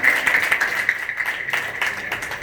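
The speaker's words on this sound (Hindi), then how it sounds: "बजा के दिखाइए जोर से, बजाइए जोर से ताली।" An audience at a ring-ceremony celebration claps in a short, busy burst, with a bright ringing tone from the sound system held underneath the clapping.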